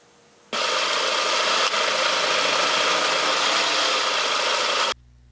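A car engine runs steadily for several seconds while the electromagnetic AC compressor clutch engages with a sudden broadband jump in level, then cuts off near the end; a steady, close, loud whirring with no talk.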